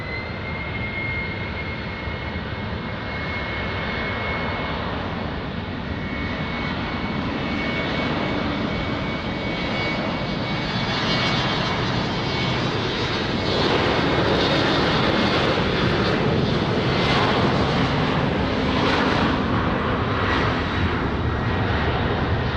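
A jet airliner takes off from runway 20 at Lisbon Airport, its engine roar loud and steady throughout, swelling slightly toward the end as it climbs away.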